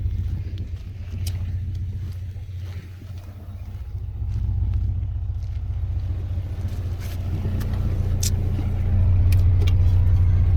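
A Nissan S13 under restoration on a test drive, its engine a steady low rumble heard from inside the car that swells louder in the second half as it pulls harder, no talking.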